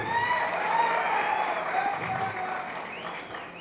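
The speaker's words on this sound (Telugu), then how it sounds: "గట్టిగా చప్పట్లు కొట్టండి" A crowd at a political rally claps loudly and steadily, the applause rising to a peak and then easing slightly, with a few voices and whistles mixed in.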